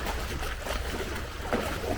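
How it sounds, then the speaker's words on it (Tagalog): Waves slap and splash against a small tourist boat on a Bangkok river churned by passing motorboats, a continuous noisy wash of water with a few sharper splashes, heard close. "rinig na rinig niyo yung alon"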